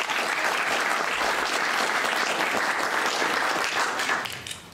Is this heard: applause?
yes